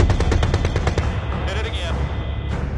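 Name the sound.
gunfire in an action movie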